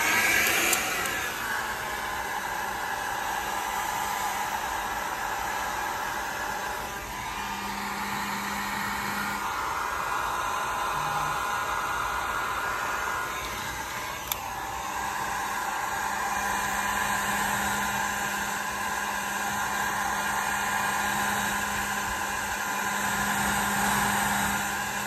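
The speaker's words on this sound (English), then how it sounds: "I'm gonna turn on the hair dryer." A hair dryer runs continuously with a steady whirring hum and airy hiss, fairly close, with slight shifts in pitch as it moves.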